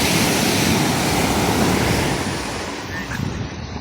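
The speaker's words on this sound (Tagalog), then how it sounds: "Maganda na yung dagat, ang ganda ng alon" Ocean surf rolling onto a beach at a popular surfing spot in La Union, a loud, continuous wash of crashing waves mixed with gusty wind buffeting the microphone.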